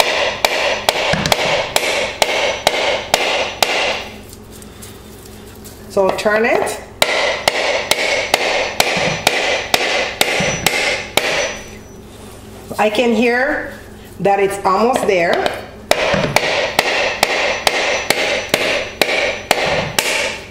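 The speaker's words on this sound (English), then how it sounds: "I'm going to hit it just to break up the coconut." A hammer strikes a whole coconut to crack it open, landing in bursts of quick, sharp repeated knocks, with a person talking during the pauses between blows.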